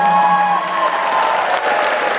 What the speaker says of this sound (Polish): Dużo brawa! Dużo brawa!